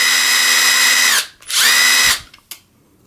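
A Bosch Freak Lite drill driver runs in reverse rotation, giving two loud, high-pitched whining bursts of about a second each, separated by a brief gap, followed by a faint click.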